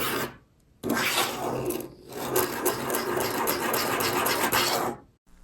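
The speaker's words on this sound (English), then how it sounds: "take any writing utensil and just start making circles" Continuous close scratchy rasping of a pen scribbling circles quickly on paper, one long stretch with a brief pause, steady and fairly loud.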